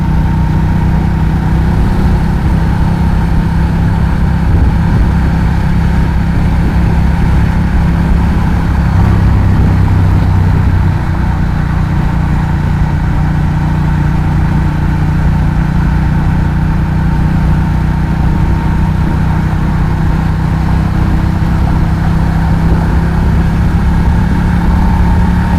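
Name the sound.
2012 Ducati Diavel motorcycle idling, Termignoni exhaust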